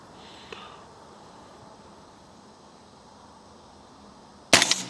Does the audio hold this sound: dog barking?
no